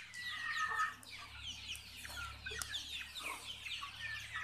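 Chickens perched on wire mesh at a duck farm cluck in a steady, overlapping chatter from several birds close by, with a low hum underneath.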